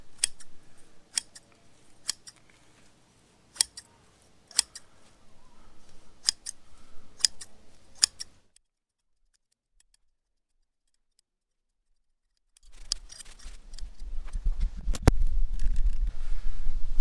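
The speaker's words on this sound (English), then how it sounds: "I think these scissors are going to do the trick" Crisp, evenly spaced snips of Corona GS 6750 grass shears cutting a grass edge, about a dozen in a steady rhythm, then a pause and more snipping over low rumbling noise.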